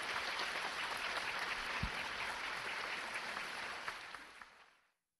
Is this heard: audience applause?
yes